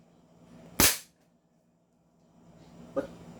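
A CZ Shadow 2 airsoft pistol fires a single sharp, loud crack, followed by a fainter click or pop a couple of seconds later, with no talking.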